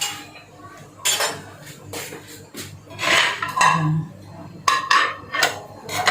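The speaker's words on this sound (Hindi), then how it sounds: "इसी तरह मैं डिश आउट कर रही हूँ, मैं उठा के रख देती हूँ एक तरफ।" Metal pots, serving spoons and dishes clink and scrape while creamy chicken is dished out in a home kitchen, a series of irregular close clatters and knocks with brief pauses between.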